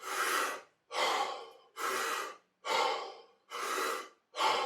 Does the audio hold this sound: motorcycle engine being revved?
no